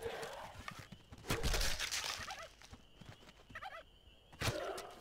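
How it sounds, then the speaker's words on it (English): Turkeys gobble in the video game How to Survive 2. The quiet, repeated, rattling calls come in several short bursts with brief gaps between them. "Getting all them turkeys, you know."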